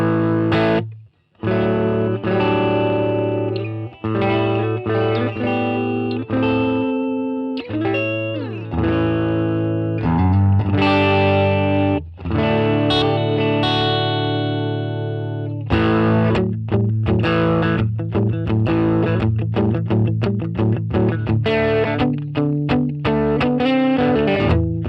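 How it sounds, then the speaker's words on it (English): A Les Paul with humbuckers plays through a one-watt Marshall DSL1CR amp, its chords and notes carrying light breakup, loud and sustained with brief pauses between phrases. "because of the humbuckers and the Les Paul, you'll start to get a bit of breakup already."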